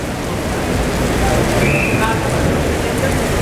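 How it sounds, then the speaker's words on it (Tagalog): Heavy rain pours steadily outside, a dense, loud, unbroken hiss of drops hitting surfaces, with people talking faintly underneath. "Lakas kasi ng ulan sa labas eh."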